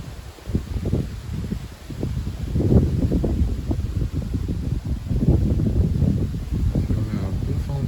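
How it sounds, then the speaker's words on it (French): A strong southwest wind gusts up suddenly under a squally shower sky, roaring in broad, buffeting waves that stay steady and loud throughout, with rustling close to the microphone. "On a un bon vent de sud-ouest qui vient de se lever à cause des averses."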